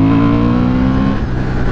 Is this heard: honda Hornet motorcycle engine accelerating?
yes